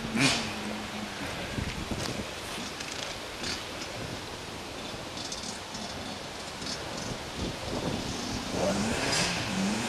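A Kawasaki KX 85 dirt bike being ridden outdoors makes a distant, continuous engine drone with rising revs, blended into wind and rough broadband noise across the whole stretch.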